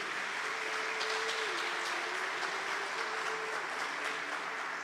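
An audience applauding during a talk on Marian theology, sustained steady clapping with a faint tonal hum running beneath it.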